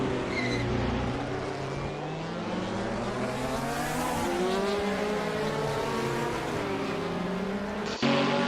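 Race car engines from a racing video game roar and whine continuously during a Tasmania round of a virtual touring car championship, pitches sliding up and down as several cars pass, loud and steady with a brief thud near the end.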